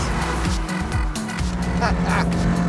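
Small, cheap car engine revving hard while driving fast, a raucous buzzing drone rising and falling up close, with someone talking over it.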